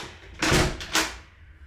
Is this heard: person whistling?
no